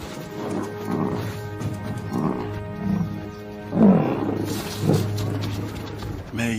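Lions attacking a buffalo calf in the wild, with deep growls and roaring bursts over heavy, rumbling struggle noise, loudest near the middle, set against a steady low drone.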